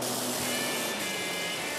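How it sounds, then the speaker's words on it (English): A steady, close hiss of a spray gun continuously blasting urethane undercoating in a paint booth without pause, during restoration of a 1948 Ford F2 truck. "Extreme 4x4's Ian Johnson donned a new uniform to spray on a little urethane undercoating."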